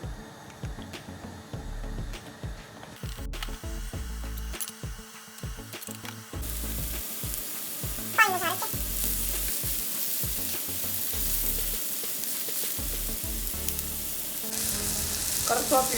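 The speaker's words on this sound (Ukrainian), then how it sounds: "Зараз я окремо жарю гриби і цибулю." Mushrooms and onion sizzle steadily in a hot pan, with occasional scraping and stirring noises over a constant crackling hiss.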